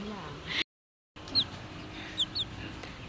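Pet chickens and chicks at feeding time give a few short, high clucks and peeps, scattered over a low farmyard murmur and broken by a brief silent gap.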